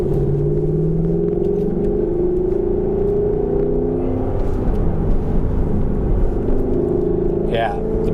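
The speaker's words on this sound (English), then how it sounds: "That V8, especially with that naturally aspirated and not having any turbo lag, just really pushes." A Lexus LC 500 Convertible's naturally aspirated V8 drones steadily with a deep rumble while cruising on a highway, the low tone rising gradually as it picks up speed, with road noise throughout.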